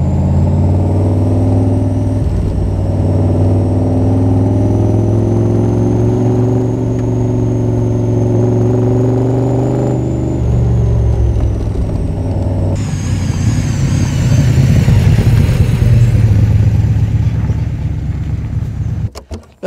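A 1964 AC Cobra 427 SC MK III with a 7-litre V8 drives along, its deep engine drone steady and loud, then rising into a harsher, revving surge before cutting off abruptly at the end.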